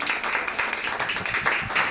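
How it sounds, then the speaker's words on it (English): A live audience applauds guests at an intimate conversation and book event, a dense, steady wash of many hands clapping that holds evenly throughout. "I think we can do better on a round of applause for these incredible guests"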